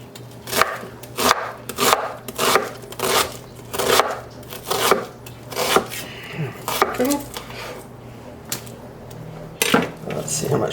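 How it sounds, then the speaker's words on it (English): Food being roughly chopped with a knife on a board, a run of loud, irregular thuds and clicks spaced about half a second apart, close up with brief pauses. "we're just gonna give it a rough chop."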